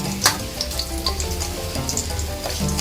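Garlic and onions sizzle steadily in hot oil while frying, a dense continuous crackle with small pops and a few stirring clinks, close up.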